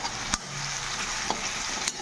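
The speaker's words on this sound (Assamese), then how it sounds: "এইখিনি এতিয়া অকণমান সময় ভাজি ল'ম" Jackfruit flower frying with ginger garlic paste in an Assamese-style home kitchen, giving a steady broadband sizzle throughout, with a few sharp stirring clacks from the pan and no talking.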